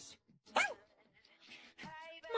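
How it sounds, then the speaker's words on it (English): A dog gives a few short barks and yips amid animated voices, the sounds brief and fairly quiet, with people talking around them. "My childhood dog, Biscuit."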